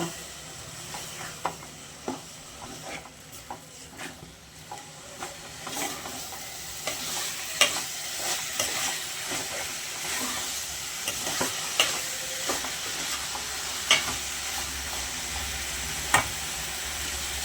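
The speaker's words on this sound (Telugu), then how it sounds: "చిక్కుడుకాయ బాగా ఫ్రై అయిపోయిందండి" Broad beans and tomato frying in a pan, a steady soft sizzle broken by repeated clicking scrapes of a spoon stirring, close and without talk.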